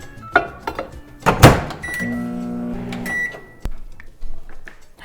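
A microwave oven warms milk and re-melts butter: a door clunk and button beeps, then a steady low electric hum with a rattling turntable, a sharp stop, and a few more clicks and taps nearby.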